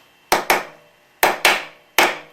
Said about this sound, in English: we take the old bearing and we put it on top, and then hit it with the hammer